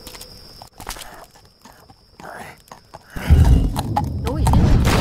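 Horse hooves in Medieval 2: Total War, a battle scene with galloping and clattering hoofbeats that grow loud and dense in the second half over a low rumbling battle din, with a faint hum earlier.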